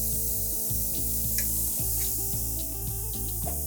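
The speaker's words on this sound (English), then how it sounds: "once our meat is marinated overnight, you wanna put it on a hot grill" Marinated skirt steak for fajitas sizzles on a hot grill, a steady close hiss and crackle with a low background hum and no talking.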